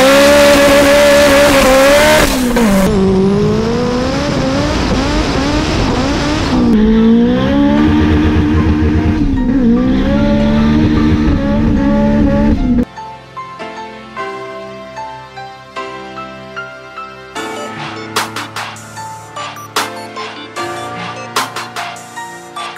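A 600-horsepower 1998 Mitsubishi Mirage engine revs hard and loud, rising and falling through several long pulls, then drops to a rough idle broken by sharp, repeated blips of the throttle.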